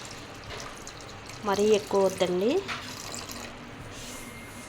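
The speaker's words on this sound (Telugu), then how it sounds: "కూరకు సరిపడా వాటర్ వేసుకుందాం" Water pours into a gongura and prawn curry in a cooking pan, a soft splashing wash under a person talking over it.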